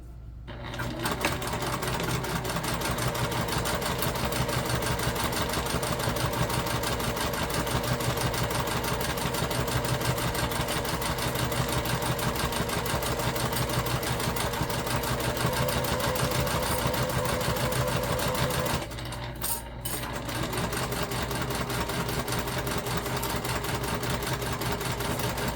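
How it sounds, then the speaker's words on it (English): A sewing machine runs steadily while basting fabric pieces together with wrong sides facing, a close continuous whir that pauses briefly before resuming. "we're just going to sew these together. And we're just basting."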